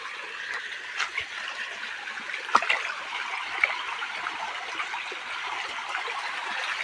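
Tap water running steadily while a container is filled at home, a fairly quiet continuous flow with a few small splashes and gurgles.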